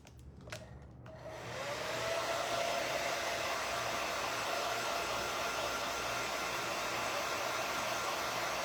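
A hair dryer drying a Firefly craft transfer: a couple of clicks, then the dryer switches on and holds a loud, steady whirring blow at close range.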